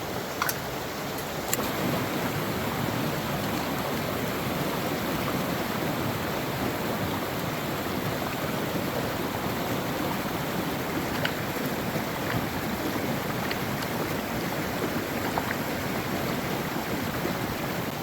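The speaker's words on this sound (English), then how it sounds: "So I'm going to take all that, wash it out in the pan, and then we can see if we have any gold." Water sloshes continuously as gravel is washed out in a gold pan, a steady close rushing wash with no pauses and no talking.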